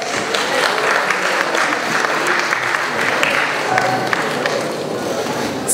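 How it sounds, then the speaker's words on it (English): A room full of guests applauds at a surprise 50th birthday party, sustained dense clapping for several seconds with a lively, slightly uneven texture and faint voices mixed in. "Please give her a round of applause."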